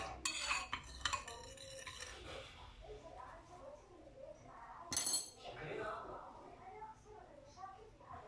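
A spoon stirring powdered sugar into a yeast mixture in a bowl, heard as clinks and scrapes against the bowl, loudest in short bursts near the start and around the five-second mark, with talking over it.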